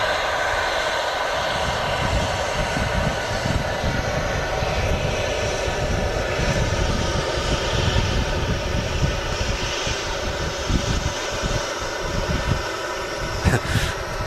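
A Boeing 737-800 with split winglets roars steadily at Manchester Airport, its engine a loud, continuous broadband rumble and whine that holds without pause, with no voices over it.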